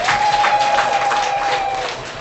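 A crowd at a women's economic empowerment gathering in Bahi, Tanzania, claps for themselves, a short loud burst of applause that fades slightly at the end.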